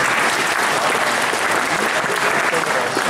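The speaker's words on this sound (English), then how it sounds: "Give yourself an applause." Loud, dense audience applause at a student talk session, continuous clapping filling the whole moment with no pauses.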